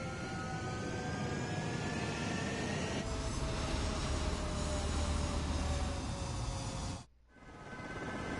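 Fighter jets in Ace Combat 7 roar loudly and steadily down the runway, engine whine climbing in pitch, before the noise cuts out abruptly near the end; no speech.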